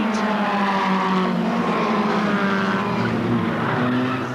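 Formula Ford 1600 race cars from 1983 lapping at Brands Hatch during a winter series race, a loud continuous engine drone with shifting pitch as the pack passes close by, filling the whole moment without talk.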